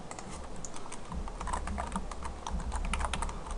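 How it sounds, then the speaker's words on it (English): An SQL insert command typed on a computer keyboard gives a fast, steady patter of key clicks, close and continuous, with no one talking. "So let's go ahead and type that in."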